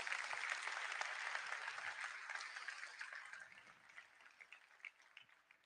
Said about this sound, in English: if we could give a round of applause for all these people who have made Delta what it is today